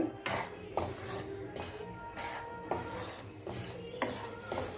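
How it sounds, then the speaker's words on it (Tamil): Raw rice flour being dry-roasted in a pan for kozhukattai, with repeated scraping and stirring strokes of a utensil against the pan, roughly one every half second to second, close and moderately loud with no voices. "பச்சரிசி மாவை நல்லா வறுத்து எடுத்துக்கலாங்க"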